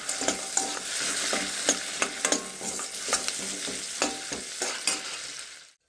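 Melon seeds and coconut pieces fry in a pan, crackling steadily while a utensil stirs and scrapes in repeated knocks. The sound is close and moderately loud and stops abruptly at the end, with no talking.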